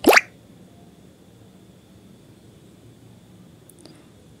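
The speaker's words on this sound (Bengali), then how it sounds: "সামান্য একটু জল দিচ্ছি, না হলে সর্ষে বাটা পুড়ে যাবে" A little water poured into mustard paste spice mix for a Bengali khoira fish curry, one short close splash at the start, then quiet room tone.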